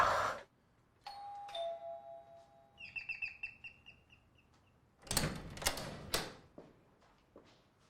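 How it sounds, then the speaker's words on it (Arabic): A doorbell gives a single ding-dong, then a quick run of bright electronic chimes. Louder clattering noises follow, with no talk. "بترن الجرس ليه؟"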